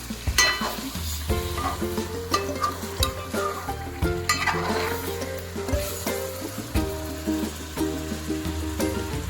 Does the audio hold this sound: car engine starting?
no